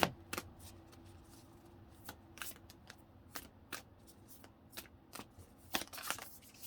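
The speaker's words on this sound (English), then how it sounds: "I heard shuffle, so that means shuffle again." Cards being shuffled in a series of quick riffling bursts, crisp and close, with short pauses between them and no talking.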